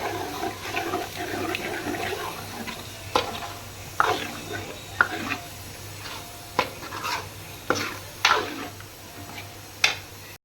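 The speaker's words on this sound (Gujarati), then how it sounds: "અહીંયા મેં તેલ મૂક્યું છે, એમાં આપણે લસણની ચટણીનો વઘાર કરવાનો છે" Hot oil sizzles steadily with sharp crackles and pops breaking through every second or so, close by, with no voices, as garlic chutney is tempered in it.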